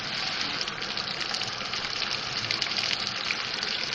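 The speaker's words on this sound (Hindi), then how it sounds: "3-4 टेबल स्पून मैंने पानी डाला है इसमें" Water gushes steadily into a pot of tomato, garlic and ginger-paste curry for Bihari chicken handi, a continuous close splashing pour lasting several seconds.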